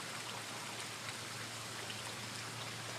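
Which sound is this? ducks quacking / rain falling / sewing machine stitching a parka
rain falling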